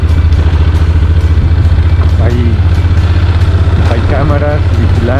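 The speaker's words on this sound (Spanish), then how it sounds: "la moto se patina un poco." A motorcycle rides over loose gravel, its engine a steady low drone throughout, with faint clatter and a voice talking over it.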